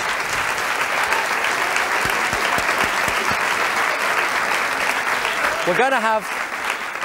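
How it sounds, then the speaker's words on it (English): Television studio audience applause for a charity broadcast, loud continuous clapping from the crowd that carries on as a presenter begins speaking near the end. "Worth a round of applause"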